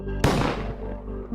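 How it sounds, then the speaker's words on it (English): A single sharp gunshot-like bang rings out, then a long echoing decay trails away; no talking. "I think that was a gunshot."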